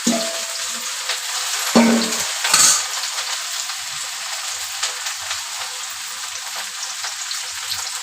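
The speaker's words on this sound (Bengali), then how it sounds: "ভেন্ডি ভাজি করব" Okra fries in a wok with a continuous crackling sizzle. A couple of louder clatters near the start fade into a steady hiss, close up and with no voices.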